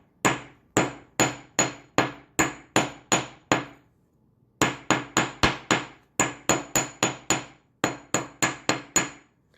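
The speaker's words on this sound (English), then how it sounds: "with the flat side, we're going to hammer it to strengthen it" Sharp metallic hammer blows on wire over a steel anvil ring out in quick, even bursts of strikes separated by short pauses, loud and close, with no speech.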